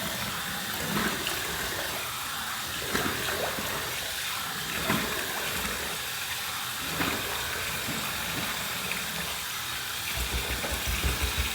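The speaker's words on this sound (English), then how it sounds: "Here's my warm water rinse." Steady hiss of warm water running from a tap for a post-shave rinse, continuous and close with faint splashes and small knocks throughout.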